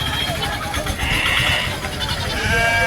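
Goats bleat once, a drawn-out cry standing out over the steady hubbub and chatter of a crowded Sunday sheep and goat market at Chilpur Gutta.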